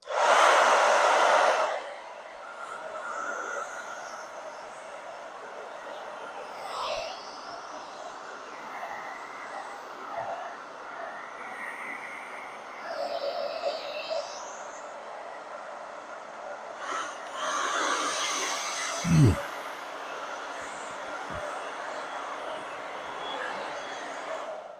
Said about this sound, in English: your wife's hair dryer makes for an excellent inverter dryer as well